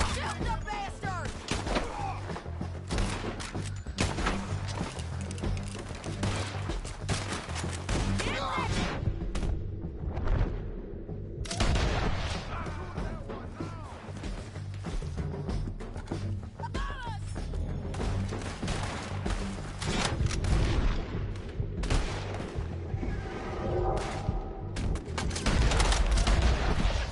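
A sustained firefight in Red Dead Redemption 2: dense, repeated gunshots and crashes keep coming throughout, loud and continuous, with some shouting mixed in.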